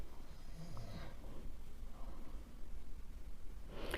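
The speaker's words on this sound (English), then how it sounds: "So they are snoring loudly." Drugged guards snore, a faint, low rasping snore drawn out in slow breaths against a quiet background hiss.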